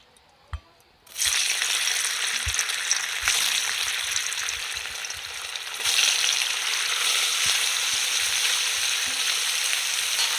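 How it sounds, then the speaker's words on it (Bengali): Paneer pieces fry in mustard oil in a wok, a loud steady sizzle that flares up sharply as they hit the oil, with light stirring knocks and a second surge partway through. "এবার আমি পনিরগুলো ভেজে নেব।"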